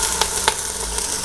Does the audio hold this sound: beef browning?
yes